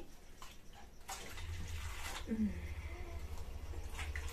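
Hot water is poured off to reduce the amount while preparing batter for pitha, a steady splashing flow over a low background hum with a faint voice nearby.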